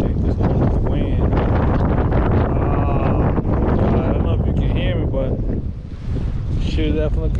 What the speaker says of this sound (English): definitely could hear the wind